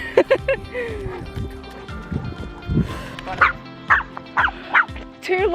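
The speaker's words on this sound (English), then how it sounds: "Two little dogs and a blind massive dog." Small chihuahua-type dogs bark and yip in short, sharp bursts outdoors on a walk, several yaps scattered across the moments with people's voices mixed in between.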